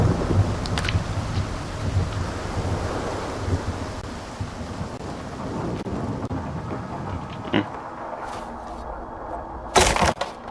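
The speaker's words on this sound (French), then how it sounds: "c'était juste un coup d'éclair qui passe à côté de moi" A lightning anomaly in the video game Stalker 2 sends a sharp thunder crack near the end, preceded by a rushing wind-like roar and an earlier smaller crack.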